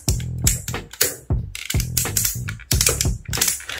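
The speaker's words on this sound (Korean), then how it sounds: "이렇게 아예 라쳇 관절 소리가 나게 심어줬습니다" Ratcheting joints on a KO MP-52 Starscream Masterpiece Transformers figure being moved, producing repeated close bursts of sharp plastic clicking separated by brief pauses.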